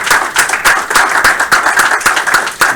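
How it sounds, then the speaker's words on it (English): A small audience at a game studio build review gives a round of applause, with distinct individual claps audible in an irregular but lively rhythm, close and fairly loud throughout. "Lynn Understiller, if you guys want to give a round of applause"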